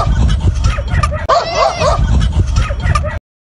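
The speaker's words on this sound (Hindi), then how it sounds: "इस बच्चे ने जब कुत्ते के साथ बदमाशी करना चाही तो देखें इसके साथ क्या हुआ।" A dog barks and yips repeatedly at a child who is teasing it, with sharp bursts packed close together and loud, over a busy background with some voices mixed in.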